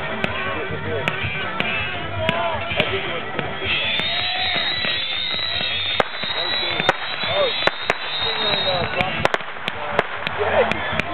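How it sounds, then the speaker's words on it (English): Fireworks bursting at a Kingdomfest 2010 show, sharp pops and crackles scattered irregularly through a constant crowd murmur, with some talk nearby. "Enough of the blind fireworks."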